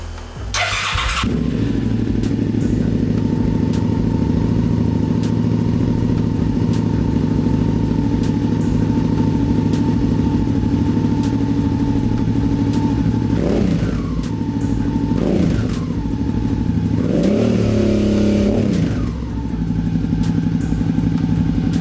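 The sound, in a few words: motorcycle exhaust with Two Brothers P1X baffle, starting and revving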